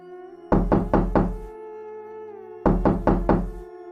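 Two sets of four sharp knocks on a wooden door, separated by a pause, loud and close over a sustained eerie tonal drone in a haunting night setting.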